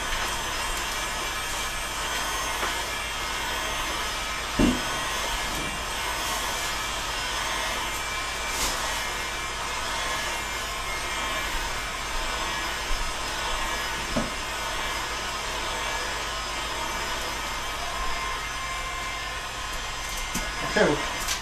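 A heat gun blows in a steady, loud whooshing roar as it warms a PVC bow limb for an asymmetric Scythian bow, with occasional faint knocks and handling sounds and a voice speaking at times.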